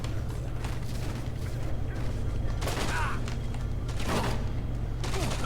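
Scattered gunfire in the Dead Rising 2 video game, with several sharp bursts over a steady low hum and faint background game sounds.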